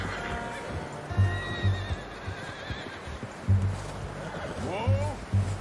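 A horse in Red Dead Redemption 2 whinnies and neighs several times, close and loud, alongside clip-clopping hooves and game sounds, with a voice talking over parts of it.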